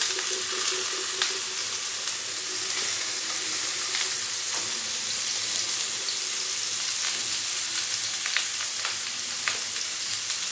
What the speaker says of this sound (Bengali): এই যে আমার তেলটা গরম হয়ে গেছে, এর মধ্যে আমি একে একে সব সবজিগুলো দিয়ে দেব।